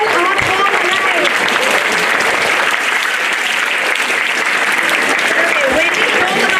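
Loud, dense audience applause at a school inter-house play competition, a continuous roar of many hands clapping with no pause throughout.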